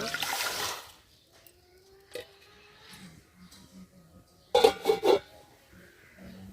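Water poured from a vessel onto washed mung dal in a cooking pot, one short splashing pour at the start, then quiet kitchen clatter and a second brief burst of splashing later on.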